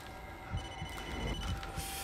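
In the Blair Witch video game, a phone rings faintly in a quiet scene, its electronic trill pulsing a few times over low rumbling thuds and background hum, with no one speaking.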